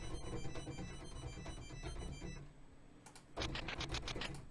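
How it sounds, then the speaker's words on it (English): Typewriter patch on the Koji 16-bit Super Nintendo VST synth: quick clacking key strikes in a steady patter, a brief pause, then a brighter run of sharp ticks with a high bell-like tone, fairly quiet and alone. "Oh man, typewriter."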